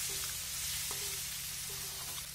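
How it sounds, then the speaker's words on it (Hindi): Tomatoes being stirred into a vegetable curry in a hot pan, giving a steady loud sizzle and fry hiss throughout, with a few faint scrapes of the spoon against the pan. "चलिए अब हम टमाटर को सब्जी में अच्छे से मिला देते हैं।"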